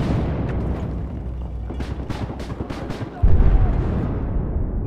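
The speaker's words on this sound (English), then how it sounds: "They're shooting us from the roof." Battlefield 4 combat on Siege of Shanghai, with enemies firing from a roof: a run of sharp gunshots over rumbling battle noise, ending in a heavy low boom, fairly loud and close.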